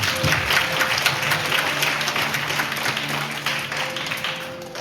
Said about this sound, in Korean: 재학생 여러분들의 힘찬 격려의 박수 부탁드립니다.